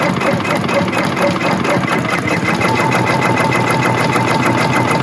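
A Brother PR embroidery machine stitches a bag held in a clamp frame, giving a loud, steady, rapid mechanical chatter that runs continuously without pause.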